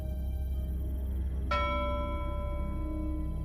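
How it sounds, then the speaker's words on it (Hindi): A single bell inside an old lighthouse strikes once with a clear metallic clang that rings out and slowly decays over a low steady background hum. "अचानक पुराने लाइट हाउस के अंदर से घंटी बजने की आवाज आई।"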